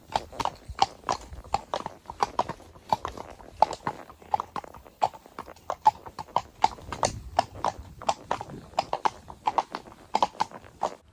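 A horse walks on a hilly trail ride, its hooves making a continuous, fairly close clip-clop in a steady four-beat walking rhythm. The footfalls are crisp, with faint rustling between them and no talking.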